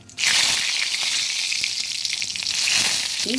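Steady, loud sizzling of dried red chilli and bay leaf frying in hot oil in a fish-frying wok, a continuous crackling hiss that starts abruptly and holds throughout.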